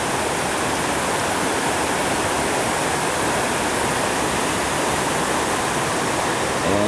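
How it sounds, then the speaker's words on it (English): Water cascades down an artificial waterfall in a garden in Panama or Costa Rica, a loud, steady, close rush of broadband roar that never lets up. "Here it comes, cascading down an artificial waterfall."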